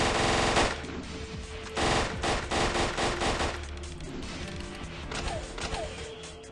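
Rapid automatic gunfire from a machine gun in a modded video game, loud bursts of repeated shots with short pauses between volleys, heard alone with no talking.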